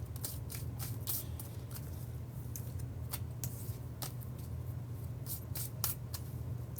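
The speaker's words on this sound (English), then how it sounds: "I'm going to shuffle the cards back into the deck from the previous reading" Tarot cards are shuffled back into the deck, giving faint, irregular soft riffles and papery taps over a steady low hum, with no talking.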